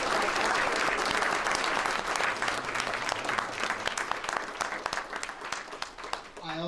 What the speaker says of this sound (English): Let's give our speakers a big round of applause.